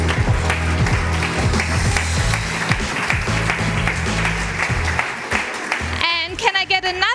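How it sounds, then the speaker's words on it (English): Audience applause fills the space at a startup summit expo, dense clapping from a crowd that thins out near the end as a voice begins speaking. "Can I get another applause for Frederike Rohr"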